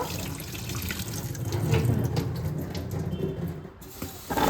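Cut raw green mango pieces are washed under running water in a kitchen, giving a continuous close splashing and trickling with small drips, fading briefly near the end before resuming.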